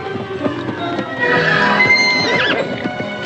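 Horses neigh and whinny close by, loud rising-and-falling calls, with faint hoof clops and shuffling underneath.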